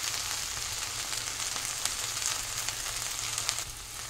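Okra frying in a pan for bhindi masala gives off a steady, close sizzle, with gentle stirring adding faint scrapes under the constant crackling hiss.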